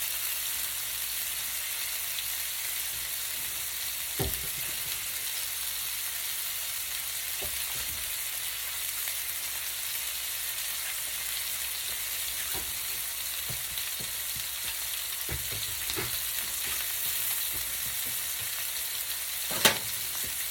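Stuffed meatballs sizzle steadily in a hot frying pan, a continuous crackling fry with a few sharper pops and clicks scattered through, heard alone with no talking.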